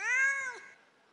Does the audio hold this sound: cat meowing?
yes